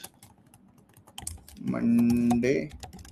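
Computer keyboard typing as Python code is entered during a lecture: sparse, light key clicks for the first second or so, then a louder tonal passage with speech-like sound dominating the latter half.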